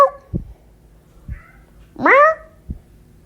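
A pet cat named Clancy gives one drawn-out, pitiful meow, close and clear, with a few soft thumps before it and a short knock after.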